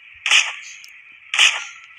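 Two sharp gunshots fired in a video game, about a second apart, each a bright crack with a short tail over a steady electronic tone.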